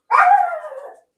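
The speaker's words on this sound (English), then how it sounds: "That was a dog." A single dog bark rings out indoors, one loud, fairly close yelp-like bark that tails off over about a second, with no talking around it.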